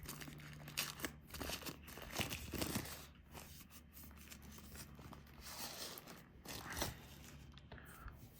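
Packaging for an INIU 25,000mAh 100W USB-C fast-charging power bank is torn and crinkled open by hand, giving a close run of rustling, ripping and crackling bursts that stays moderately loud throughout.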